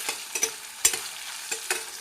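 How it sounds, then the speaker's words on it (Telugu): A spoon stirs mango and sweet potato curry in a pan, making soft, close scraping strokes at irregular intervals over a faint sizzle. "ఇలా మధ్య మధ్యలో కలుపుకుంటూ ఉండాలండి,"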